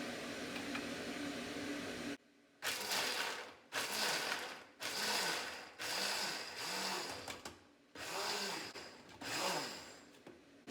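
A drill-driven blender attachment chopping coconut in a kitchen, whirring in a series of short bursts separated by brief pauses, each burst rising and settling in pitch with a grinding, rattling edge, close and fairly loud.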